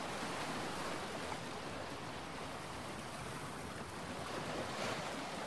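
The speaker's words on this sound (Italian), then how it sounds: "rocce battute dalle onde, sferzate dal vento e infuocate dal sole" Waves breaking against rocks on the shore of a volcanic Italian island, with wind. A steady, loud, broadband wash of surf and gusting air fills the whole stretch without pause.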